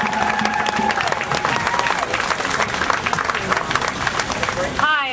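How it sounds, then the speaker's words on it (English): Crowd applause at an al-Quds Day rally in Washington, DC fills the outdoor air steadily, with scattered cheers and voices mixed in, before a single voice rises near the end. "So please, please clap it up for Miss Shelly Fudge, please."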